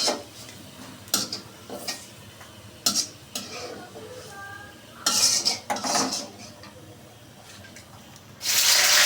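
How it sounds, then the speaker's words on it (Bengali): A spatula clinks and scrapes against a pan as chicken curry is stirred and lifted, with several sharp metallic taps spaced irregularly, soft stirring between them, and a louder burst of sizzle and scraping at the end. "এবার আমি খুন্তির সাহায্যে দেখে তুলে নেব।"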